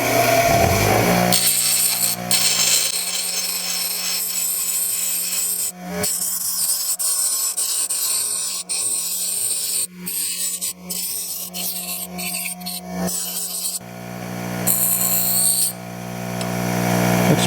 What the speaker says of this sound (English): now I'm going to round off the end on my grinder